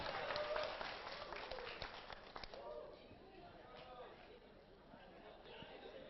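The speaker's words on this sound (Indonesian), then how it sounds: "Tepuk tangan untuk kita semua." Indoor audience at an occupational safety (K3) training session applauding together, a dense burst of clapping that is loudest in the first two seconds and then thins into scattered claps and murmuring.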